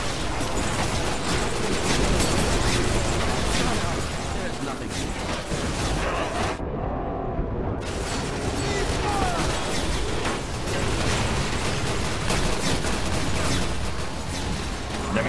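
Gunfire in the Garry's Mod Sunrust Zombie Survival video game: dense, continuous shooting and mechanical clatter that fills the whole stretch, with one brief muffled gap partway through.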